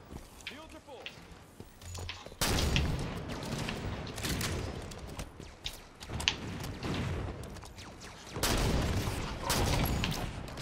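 Scattershot fire in Halo 5 multiplayer, several loud bursts of shotgun-like blasts with ricocheting crackle, separated by quieter stretches of game ambience.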